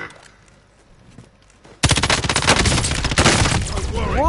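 Heavy sustained automatic gunfire in the video game Call of Duty: Warzone erupts suddenly after a quiet stretch, a loud close rattle of rapid shots continuing to the end.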